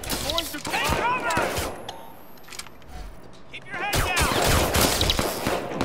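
Gunfire in the video game Watch Dogs 2: bursts of sharp shots in rapid clusters at the start and again near the end, with a quieter stretch between, and someone talking excitedly over the action.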